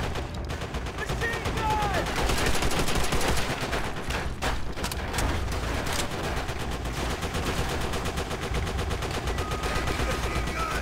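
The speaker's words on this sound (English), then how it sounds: "I want suppressing fire on those MGs" Sustained machine gun fire with dense gunshot bursts from the World War II shooter Call of Duty: World at War, loud and continuous throughout, with battlefield chaos layered around it.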